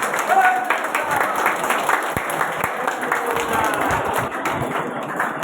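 Loud, sustained applause from a crowd at a quarterly meeting of a disability forum in Puri, Odisha, with dense clapping filling the whole stretch and voices mixed in.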